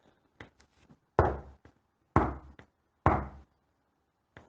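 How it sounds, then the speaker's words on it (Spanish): Knocking on a street door: three loud, heavy knocks spaced about a second apart, each followed by a short decay, with lighter taps before and after in an otherwise quiet room. "golpearon a la puerta de calle"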